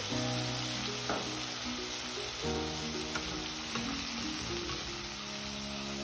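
Tomatoes hit hot oil with mustard seeds and cumin, a steady loud sizzle and crackle continuing throughout, with occasional stirring scrapes and a faint high whine in the background.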